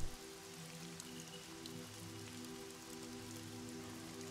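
Steady rain ambience playing behind a tabletop role-playing session, a constant patter of raindrops over a low droning hum, holding at an even level throughout with no one speaking.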